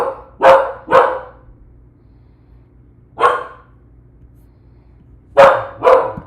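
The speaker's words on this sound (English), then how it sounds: "the puppy's barking." A puppy barks in sharp, close bursts: two quick barks, a lone bark after a pause, then two more near the end, with a quiet room between them.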